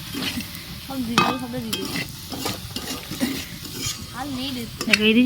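Heron meat sautéing with spices in a pan, steady sizzling under repeated stirring and scraping of utensils against the pan, close up, with a voice talking throughout.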